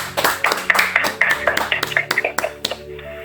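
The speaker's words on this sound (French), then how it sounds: "Applaudissons la parole de notre Dieu." A church congregation at a Sunday service claps in quick rhythmic bursts, sharp hand claps repeating over a sustained keyboard tone, with no speech.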